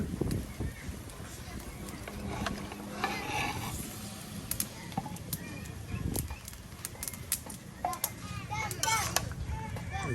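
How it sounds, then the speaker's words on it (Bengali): Vegetables are being stirred and mixed into a fried raw spice paste in a pan for a traditional Sherpur-style rui and bean dish. Busy scraping and clattering keep going throughout, with a voice talking over the cooking. "মশলার সাথে ভালো করে দেখুন মিক্সড করে নেওয়া হচ্ছে সবজিগুলো।"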